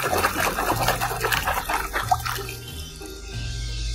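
Running water splashing steadily as a toy antelope is washed under a tap, with a continuous gushing flow that eases off toward the end.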